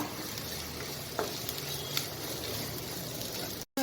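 Ivy gourd thoran with grated coconut being stirred in a hot pan, a continuous low sizzle with a few light scrapes of the spoon, cutting off briefly at the end.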